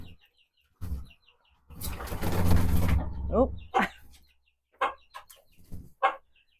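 Chickens in a backyard coop cluck and squawk in scattered bursts, with a loud flapping flurry in the middle and sharp calls afterward; a person briefly speaks.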